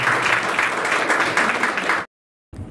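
Loud, dense audience applause at a lecture hall gathering, a steady unbroken roar of many hands clapping for about two seconds, then abrupt silence before a brief return of noise.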